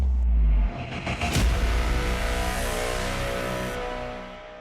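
The engine of a new Czech-supplied 152 mm self-propelled howitzer roars close by, a heavy deep rumble with a strong surge near the start, then a sustained full-bodied idle that slowly eases off.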